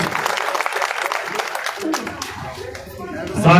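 A crowd at a political rally at Chandana Gate applauds loudly to welcome Leela Ram, steady dense clapping with some chatter and laughter mixed in, thinning toward the end.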